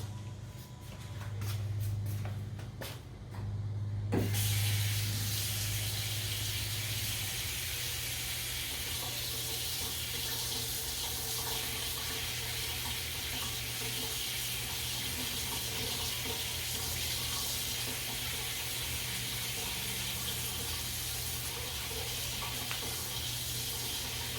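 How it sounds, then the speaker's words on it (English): A kitchen sink tap runs into a cup, filling it with warm water: after a few seconds of shuffling, a steady rushing hiss of water starts and continues without letup for about twenty seconds. "I'm going to walk over to the sink. I need a cup of warm water."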